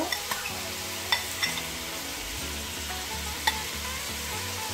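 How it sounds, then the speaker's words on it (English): Onions fry in a pot for a Cape Malay sugar bean bredie with allspice, a close, steady sizzle broken by a few sharp knocks and scrapes of stirring. "I'm just going to add in the onions."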